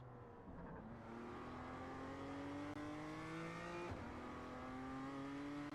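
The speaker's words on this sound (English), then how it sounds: "it sounds like the engine's just bogging down" BMW M2 engine in the iRacing video game bogging down under braking, a steady engine drone with harmonics that slowly climb and then briefly drop, heard alone at low level.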